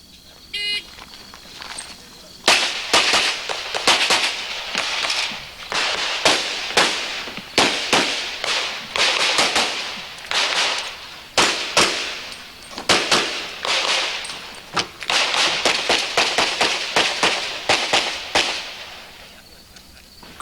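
Pistol shots ring out on a stage at the 1989 USPSA National Championships: sharp, loud reports in rapid strings and bursts with short pauses between, the sequence lasting most of the stretch.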